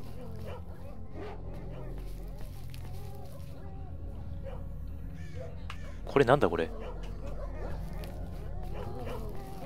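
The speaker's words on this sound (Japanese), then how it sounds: "襲ってきたり襲ってこなかったりする犬がいるんだよな。" A dog barks in a burst of a few sharp, loud barks amid the ambient soundscape of the S.T.A.L.K.E.R. Shadow of Chernobyl game zone, with someone talking now and then over the steady background.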